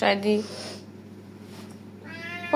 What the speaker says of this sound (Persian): نمیدونم این گربه است یا ساعت هشدار دهنده غذا.